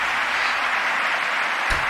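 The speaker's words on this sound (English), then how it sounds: "They all clap for it." Audience applause in a played-back recording, a steady dense wash of clapping heard at a distance for about two seconds, with no talk over it.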